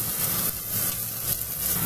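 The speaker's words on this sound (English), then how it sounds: "Look at that sizzle" Red peppers frying in a pan for chicken fajitas, giving a steady, close hiss of sizzling with slight surges in intensity.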